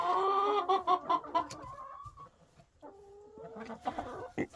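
A hen clucks in a series of close, throaty, drawn-out calls with a rhythmic pulse, pausing briefly before more tonal clucks and a short burst of softer clucking at the end, with no voices.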